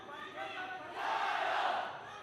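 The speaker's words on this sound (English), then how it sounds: "crowd cheering on their countrywoman." A crowd cheers and roars for a Chinese fighter during a women's 52 kg sanda final, a sustained swell of voices that grows louder midway, heard from a distance.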